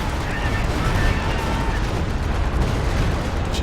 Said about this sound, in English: CieZ barrage doesn't really hit too much.